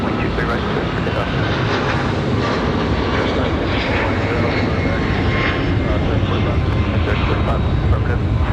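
An airliner takes off at Raleigh-Durham International Airport on a windy day, its engines roaring in a loud, continuous broadband rush, with faint radio-like talk mixed in.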